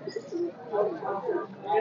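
Pigeons coo softly with low, rolling calls at a busy pigeon market, several overlapping coos close by under faint background murmur.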